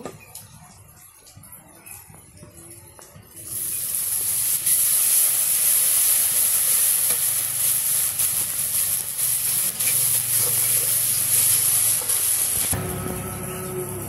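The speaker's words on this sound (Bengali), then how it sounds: "এখন হলুদ মরিচ লবণ আদা রসুন বাটা সব মশলা দিয়ে কষিয়ে নিব" Onion and green chili frying with turmeric, chili, salt and ginger-garlic paste for a village-style chicken curry bursts into a loud, steady sizzle after a quieter start, hissing continuously for about nine seconds before dropping off abruptly.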